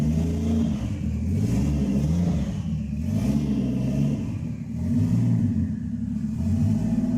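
A Toyota Supra engine runs steadily after a swap, a loud continuous mid-pitched drone that swells and eases slightly as it revs, close by with no talking.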